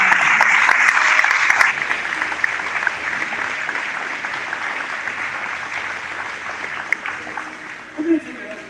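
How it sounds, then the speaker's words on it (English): Audience applause fills a fashion show venue, loud and dense at first, then thinning into a steadier, softer clapping that carries on to the end. "Set a round of applause for Molly"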